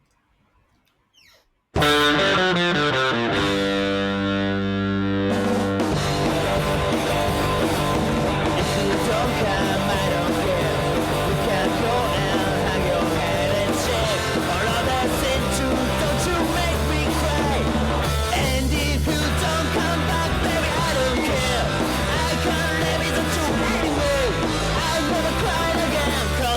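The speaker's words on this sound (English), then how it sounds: "That little crunchy guitar at the end's wild." A crunchy, heavily distorted electric guitar riff plays loud and sustained after a brief quiet start, with dense chugging chords and no talking over it.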